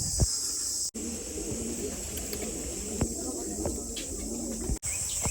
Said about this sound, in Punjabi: ਇੱਧਰ ਕਬੂਤਰ ਰੱਖੇ ਗਏ ਆ ਜੀ